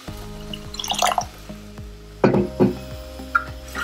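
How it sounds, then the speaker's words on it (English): Water is poured into a pot of mixed vegetable soup in a few short splashing bursts with dripping between them, close by over a faint background hum. "I'm going to add water"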